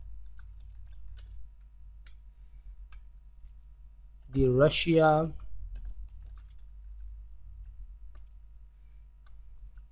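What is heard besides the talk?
typing on computer keyboard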